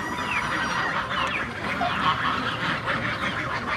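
A flock of geese honking and gabbling continuously at close range, overlapping calls forming a noisy, busy chorus.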